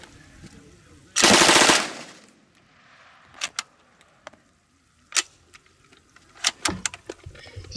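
A PPSh submachine gun fires one long rapid burst at close range, a loud continuous rattle, followed by scattered clicks, knocks and handling noises.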